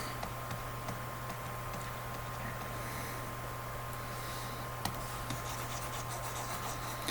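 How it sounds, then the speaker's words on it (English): A number is written by hand, likely pen on paper: faint, scratchy short strokes with small ticks, quiet and close over a steady low electrical hum. "I'm gonna write it down under P1."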